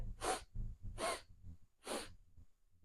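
Three sharp, forceful inhales through the nose or mouth during a diaphragmatic breathing exercise, evenly spaced about a second apart, close and clear with a quiet pause after.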